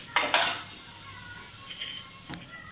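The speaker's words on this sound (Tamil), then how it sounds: "கரண்டி வச்சு லைட்டாக கிளறி விடுவோம்." A ladle clinks against a metal pot while stirring moong dal payasam with ghee-roasted cashews and raisins, two sharp close scrapes then quieter faint clinks.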